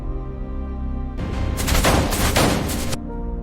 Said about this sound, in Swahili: Risasi zilianza kupenya ukuta wa mbao.